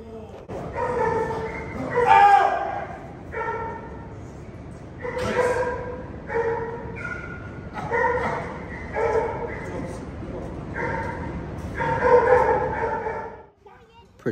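A Rottweiler barks and yips repeatedly during protection dog training, a series of close, loud bursts across the whole stretch with short pauses between them.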